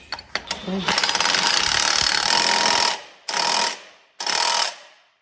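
A wrench turns 15/16 lock nuts on John Deere farm equipment, with a few quick clicks followed by a long, loud, continuous ratcheting run and then two shorter bursts, close by.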